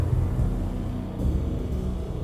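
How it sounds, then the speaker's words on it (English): An old service elevator rumbles down into the depths of a hotel in the Max Payne video game, a continuous, heavy low rumble that stays loud and steady throughout. "The old service elevator rumbled down to the bowels of Jack Lupino's hotel."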